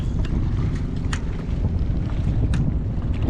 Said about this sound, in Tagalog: Wala, pero tunog bangka yan.